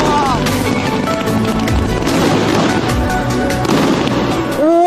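Crackling fireworks burst in a dense, continuous barrage of loud pops and booms that blur together, with voices talking over the noise.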